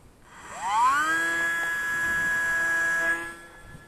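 Electric brushed motor of an Arrows Pioneer 620mm micro RC airplane spinning up at launch outdoors in snow, a rising whine that settles into a steady high-pitched drone for a few seconds before fading off.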